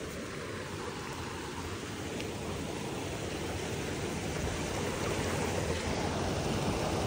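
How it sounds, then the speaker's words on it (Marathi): Flowing water from a stream below a hidden waterfall near Bhivegaon in the Bhimashankar area, heard as a steady, fairly soft broadband rush while people wade through the shallow, muddy stream; no talking. "चला तर आता पाण्यामधनं चाललोय आम्ही."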